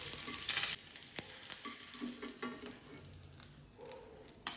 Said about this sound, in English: Then add 2 teaspoons of ghee. Then add fried green chilies.